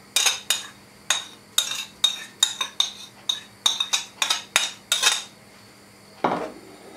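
Pumpkin pieces go into a pot of boiling milk for semolina porridge, heard as a run of sharp metallic clinks and knocks of a utensil against the pot, repeating irregularly with a brief low rustle near the end.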